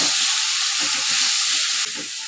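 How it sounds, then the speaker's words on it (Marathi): Two large tomatoes sautéing with onions in hot oil for Punjabi-style rajma masala, a steady close sizzling hiss with soft scraping stirs pulsing through it. "आता या ठिकाणी 2 मोठ्या साईजचे टोमॅटो घ्यायचे आहे आणि व्यवस्थित तेलामध्ये परतून घ्यायचं आहे।"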